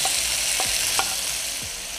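Kimchi fried rice being stir-fried in a pan, a steady close sizzle with a few sharp scraping strokes of a spatula against the metal, no voices.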